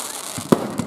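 New Year's Eve fireworks burst over Voyager Memorial Park in Huskisson, NSW, heard from very close by: a few sharp, booming pops spaced irregularly over a low background rumble.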